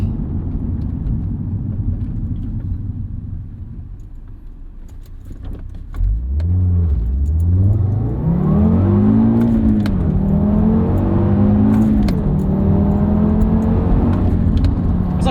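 A 2013 Audi TT RS with a five-cylinder engine idles quietly, then pulls away from a stop, its engine note rising loud and close through several gear changes.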